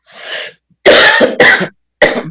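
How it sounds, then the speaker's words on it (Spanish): A single person coughs four times, loud and close, in short harsh bursts separated by brief silences. "Perdón por la tos"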